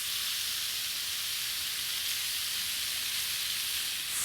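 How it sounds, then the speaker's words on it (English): A steak laid in a pan over high heat gives a steady, bright sizzle and hiss, even and unbroken, close and fairly loud. "So, this steak goes in to a pan"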